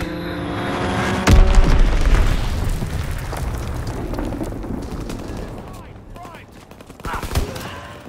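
A bomb dropped in a fighter pilot's air strike in Call of Duty WWII lands with a heavy, booming blast, and the rumble fades under continuing battle noise and scattered gunfire.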